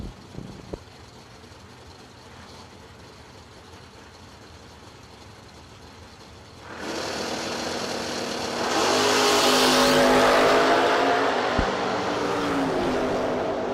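Drag race cars, one a Mustang, launch at a drag strip: a distant low engine idle, then an abrupt loud roar about halfway through that swells further as the cars accelerate away, with no talk.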